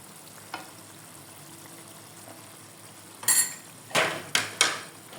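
Ghee is added to a nearly finished raw banana kofta curry in the pan, a few loud, close sizzling hisses bursting out over a faint background simmer, with no one talking.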